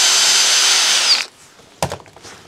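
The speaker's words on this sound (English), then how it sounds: "All right, we open the hole up." A drill opens up a 3 mm hole in a 3D-printed carbon-fibre polycarbonate idler part for a Prusa XL, a loud whining bore for about a second, then a quiet pause and a single thunk.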